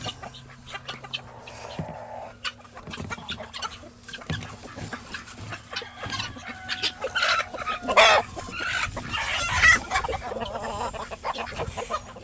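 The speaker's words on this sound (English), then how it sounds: "chickens! Hey, chickens! And turkeys and ducks!" Chickens clucking and crowing among turkeys and ducks at a farm as they are herded up for the night, with repeated close clucks and a louder crowing burst near the end over steady outdoor background.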